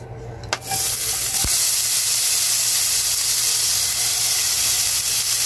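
Onion and garlic sizzle loudly in a hot pan after a brief clatter at the start, a steady close hiss that carries on without break, no voices.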